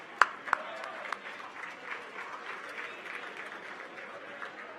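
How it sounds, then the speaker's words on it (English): Scattered applause from an audience at a Florida State athletics event, opening with a few sharp, close claps and then settling into a soft, distant wash of clapping and crowd murmur. "Big round of applause."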